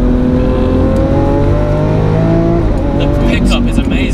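Lamborghini Aventador S engine pulling hard under acceleration, a loud continuous roar with rising harmonics that climbs in pitch close up from inside the car, with talk in the cabin over it.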